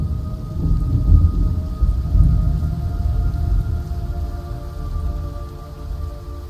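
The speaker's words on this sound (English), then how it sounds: "Why is it raining blood?" Steady rain with a low, rumbling thunder underneath, a dense continuous wash of sound with no voices, from the video game Metal Gear Solid Delta: Snake Eater.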